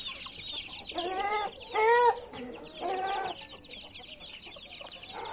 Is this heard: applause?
no